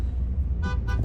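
Car horn at a traffic light heard from inside a Matiz, two short toots in quick succession over a steady low engine idle.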